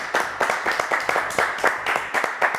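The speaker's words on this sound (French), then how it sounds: "On applaudit Martin quand même." Audience applause for a guitarist arriving at a live music corner of a French show: irregular claps in close, uneven bursts, fairly loud, with a faint murmur of voices beneath.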